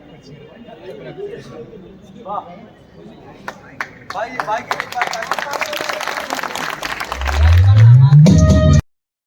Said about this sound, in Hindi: आइए थोड़ा तालियां everyone, please put your hands together